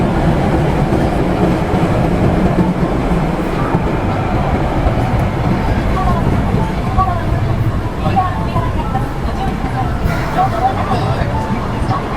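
A train rumbles and clatters steadily through a busy station, loud and close, with crowd murmur and someone talking over the continuous rail noise.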